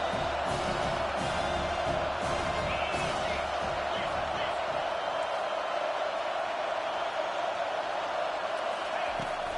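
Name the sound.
home crowd cheering at a college football game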